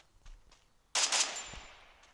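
A rapid burst of automatic gunfire erupts in the battle-royale video game Free Fire after a quiet stretch, loud and sharp at first, then trailing off into a fading echo.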